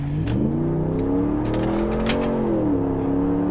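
A very large truck accelerating while being driven, its engine drone rising and shifting in pitch as it pulls, heard steadily from inside at a fairly loud level with no talk.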